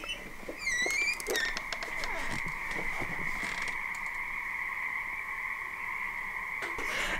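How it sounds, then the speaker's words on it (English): A large chorus of small frogs croaks outdoors on Mayne Island in the Southern Gulf Islands during the spring mating season, a dense, steady, continuous trilling that fills the whole stretch at moderate distance. "That is a hell of a lot of little froggies."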